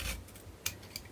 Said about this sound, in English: I have to cut here the corners so that I can wrap this in.